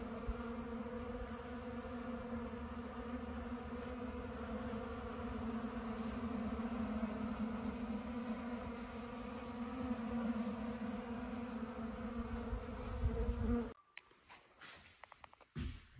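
Honey bees swarming and buzzing while robbing pollen sub and old frames outdoors, a dense, steady drone that continues for most of the stretch before cutting to quieter rustling and scattered buzzes at the end.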